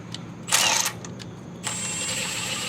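Milwaukee M12 Fuel stubby 3/8-inch impact wrench spinning nuts on, a short buzzing whir followed by a longer steady motor whine, close and fairly loud, no speech.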